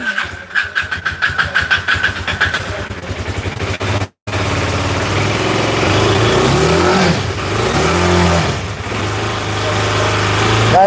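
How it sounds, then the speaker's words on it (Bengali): An Aprilia motorcycle engine cranks over in rapid starter pulses, cuts out briefly, then catches and settles into a steady close idle with a few revving swells. "গাড়িটা স্টার্টে আছে স্টার্টটা অফ করে দিলাম"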